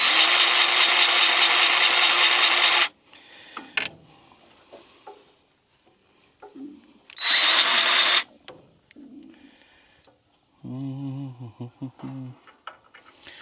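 A battery-powered grease gun greases equipment on a cattle farm, giving two loud, close buzzing motor bursts separated by quieter handling noises, with a short humming sound near the end.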